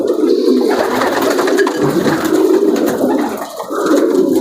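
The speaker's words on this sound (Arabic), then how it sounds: "راه فيها عده حمام ممتازين جدا" A flock of racing pigeons at a breeding loft coos continuously nearby, layered soft throaty calls overlapping into a steady murmur with no talking.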